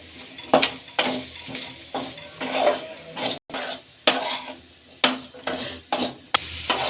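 A spoon scrapes and stirs green garlic and raw pigeon pea curry frying in a pan, with regular close strokes against the metal over a light sizzle.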